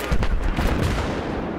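Gunfire in the video game Battlefield 3, a loud, dense burst of booming shots with a rumbling tail that fades over about a second and a half.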